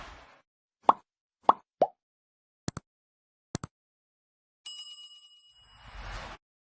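A short notification bell chime rings out clearly amid a few soft plops and clicks, bright and close in otherwise quiet surroundings.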